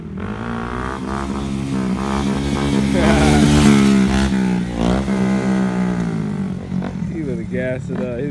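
A 2023 Honda Grom motorcycle engine revs and rises in pitch as it rides close by, a strong droning whine swelling then easing, with people talking over it.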